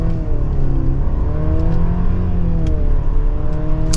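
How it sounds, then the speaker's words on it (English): A 2024 Mercedes-Benz GLC 300 Coupe accelerates in Eco mode, its engine note rising steadily in pitch through the gears, loud and constant from inside the cabin, with no talking. "we will give it another acceleration here"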